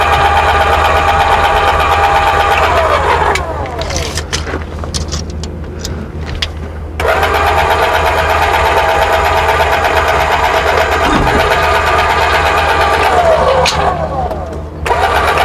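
A vehicle engine idles close by while a trailer hitch is positioned, a loud steady drone with a brief dip and a revving surge partway through, and people talk over it.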